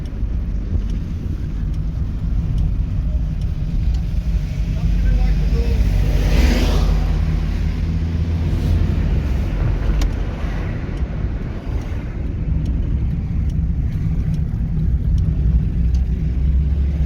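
A small 1986 Toyota Starlet EP70 hatchback drives along with a steady low road and engine rumble plus wind buffeting at the microphone, heard from inside the car while people talk.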